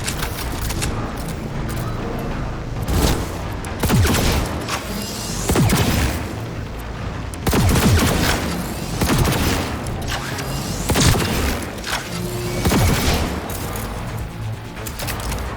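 Sustained gunfire and booming explosions from Cyberpunk 2077 combat at Very Hard difficulty, heavy shots repeating loudly over a dense, noisy battle soundscape.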